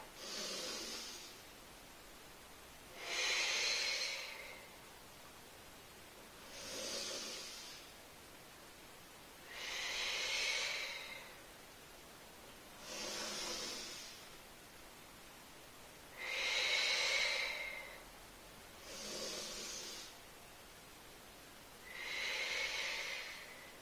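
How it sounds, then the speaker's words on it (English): Deep, slow breaths during a body-conditioning exercise for South Asian dance, eight airy inhales and exhales in a steady rhythm with quiet pauses between, close and soft. "Fill your belly with air. And when you exhale, draw your navel into your spine. Inhale."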